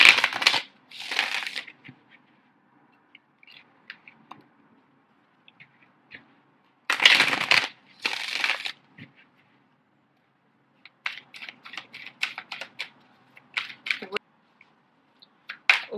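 Tarot cards handled and shuffled for a spread: bursts of crisp papery shuffling and riffling come in clusters with quiet gaps, followed by lighter scattered taps and flicks of cards being laid down, close and fairly loud.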